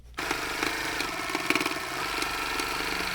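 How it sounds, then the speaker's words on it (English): A sewing machine stitches quilt blocks with a small sashing strip underneath, a close, steady mechanical rattle of rapid needle strokes running continuously after a brief start, with no talking. "I'm stitching with the block itself on the top and the small sashing strip underneath"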